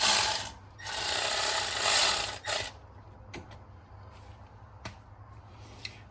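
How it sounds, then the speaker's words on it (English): Ratchet wrench spinning brake bolts loose on a 2015 Ford Escape, a loud rapid clicking ratchet for about two and a half seconds, then near silence broken by a few faint isolated clicks. "we're going to spin this back, make sure our bolts are all the way out"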